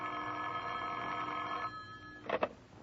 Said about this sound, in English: The phone call came at 9:30.